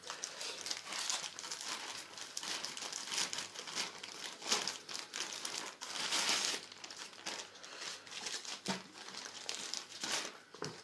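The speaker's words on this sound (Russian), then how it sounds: "Распаковывать нужно аккуратненько, потому что все это там плотно лежит" Plastic packaging from a parcel containing Mechanix M-Pact 3 tactical gloves crinkles and rustles in continuous close handling, with bursts of louder crumpling and occasional small tearing sounds.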